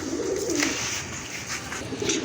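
Beauty Homer pigeons coo in a low, throaty rolling murmur that holds steady throughout, with soft bird chatter layered over a continuous background hum.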